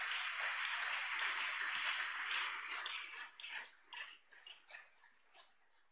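Applause from a church congregation fills the space with dense, sustained clapping that thins out into scattered claps toward the end.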